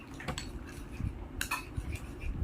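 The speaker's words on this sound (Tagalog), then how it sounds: "Wait, at haluin muna natin ulit, Bibiana." A utensil scrapes and clinks against a bowl while stirring baby food of rice with soya, giving irregular close chinks and scrapes without speech.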